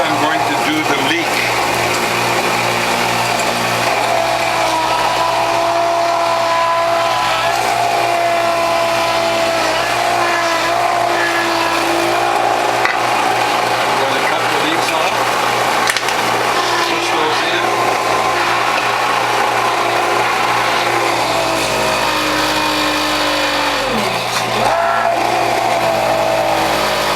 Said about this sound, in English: When the motor works hard like that, it's a sign that the fiber is too thick on the grid